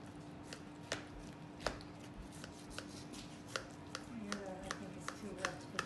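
Knife slicing through soft, wet lasagna with cooked noodles, a series of faint irregular cuts and taps on the dish, with quiet talk in a home kitchen between them.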